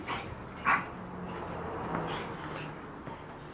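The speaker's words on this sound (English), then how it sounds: "Oh, little doggies." Small dogs give a sharp yip or bark near the start, then softer whimpering and faint fussing in a quiet indoor storage area.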